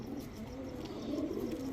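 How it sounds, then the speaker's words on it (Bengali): A pigeon, a khaki-coloured bird offered for sale among high-flying and racing pigeons, coos softly and steadily in low rolling tones, close by with no talking over it. "এটা একটা কবুতর, দেখেন আমি কবুতরটা দেখাই"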